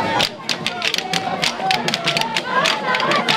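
A crowd at a Lokossa youth centre applauds Abdoulaye Biotchane and his political delegation with a steady patter of hand claps, while voices talk over it.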